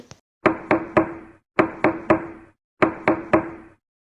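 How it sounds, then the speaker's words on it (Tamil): Loud, close knocking on a door in a cartoon story: three separate groups of three to four heavy raps each, with short silences between the groups. "பலமாக யாரோ கதவை தட்டுற சத்தம் கேட்டது"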